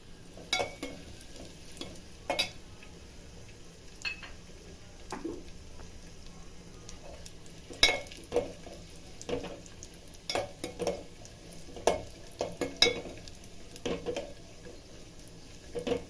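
Cashews and raisins frying in ghee for gasagase payasa, a soft steady sizzle with intermittent sharp clinks and scrapes of stirring, close and fairly quiet.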